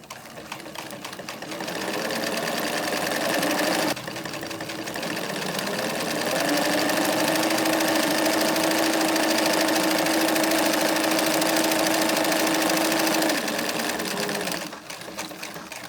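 Singer Bobina Mágica 268 zig-zag sewing machine stitching fabric, a loud, steady mechanical whir and rapid needle chatter running continuously for several seconds, with brief pauses at the start and end.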